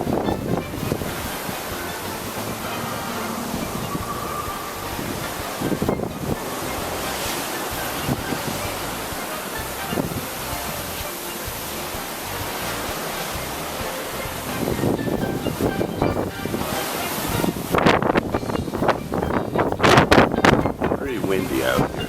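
Gusty wind buffets the microphone over the rush of Caribbean waves at sea near Half Moon Cay, a constant noisy roar that swells louder near the end.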